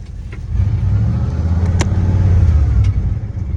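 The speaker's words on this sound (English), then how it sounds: "We had to spin tires a little bit" A car engine revs hard and steadily close by as the tires spin, a sustained low roar with a brief sharp squeal partway through.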